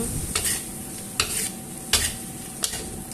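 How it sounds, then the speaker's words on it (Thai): Bamboo shoots and pork stir-frying with curry paste, kaffir lime leaves and chili sizzle steadily in a pan, with four evenly spaced scraping strokes of the spatula close by, and no talking. "ให้ใส่ใบมะกรูดและพริกลงไป ผัดให้ส่วนผสมทุกอย่างเข้ากันอีกครั้ง"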